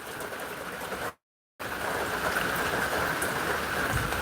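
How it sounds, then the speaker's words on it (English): Heavy rain pours down outside in a dense, steady hiss that is briefly cut off by a short silence, then returns just as loud and continuous; no one speaks. "that rain's coming down pretty good"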